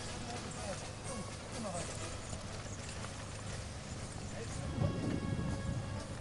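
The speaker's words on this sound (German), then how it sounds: "hier werden die Köpfe oder die Rübenblätter mit den Rübenschlitten mit einem Pferd abgeschlickert" Horse hooves clip-clop steadily as a horse drags a beet sled through a sugar beet harvest, with a voice talking over the rhythmic steps throughout.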